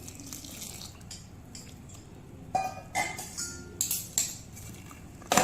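Quiet kitchen hush, then a series of metallic clinks and clatters as a plate is set over a pot while making idiyappam, ending with one more sharp clank.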